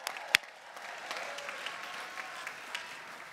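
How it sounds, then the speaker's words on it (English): Applause from a university convocation audience, faint and distant, a steady patter of many hands with one sharp nearby clap early on. "Give them a round of applause."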